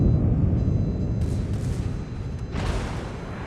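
Heavy booming gunfire from the Musashi battleship's big main guns in a naval warfare game, a low rumbling blast with a second salvo near the end, loud and continuous with no talk over it.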